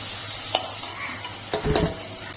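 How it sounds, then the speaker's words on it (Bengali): Potatoes fry in hot oil in a pan, cooked for a lemon chicken dish. A soft continuous sizzle sits under a few spatula scrapes and stirring knocks, close and fairly quiet, with no voices. "আলুটা আমি এখন লাল লাল করে ভেজে নেব"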